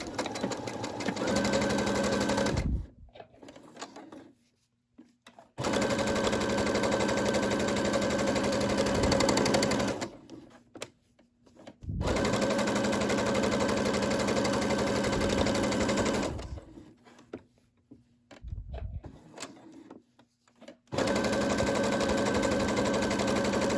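A Brother SE600 sewing machine stitches a fabric coaster in several long, loud, rapid bursts separated by quiet pauses.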